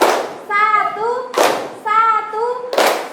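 A classroom group of students claps once in unison on command, sharp single claps spaced about 1.4 seconds apart, each following a spoken or chanted call from a voice.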